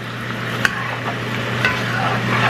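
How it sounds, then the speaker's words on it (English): Chicken pieces sizzle in a hot pan with garlic for hot and sour chicken, a continuous close frying hiss broken by a few sharp pops and the scrape of stirring. "the sizzling has gone down, and now because the chicken is starting to really release some of that moisture"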